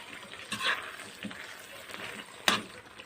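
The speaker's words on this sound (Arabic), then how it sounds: "نزلت عليها بالخضار بقى، اقلبه عليها كده كويس." Chicken shawarma frying in a pan with vegetables, stirred with a utensil: a steady close sizzle with scraping stir strokes and one sharper clack, no talking.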